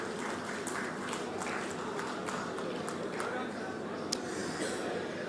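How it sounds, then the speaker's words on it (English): Steady, dense applause from an audience at a ceremony in Visakhapatnam, Andhra Pradesh, honoring the state Minister for Youth, Sports and Transport, held without breaks at even loudness with scattered sharper claps throughout. "Can we have a round of applause for the Minister"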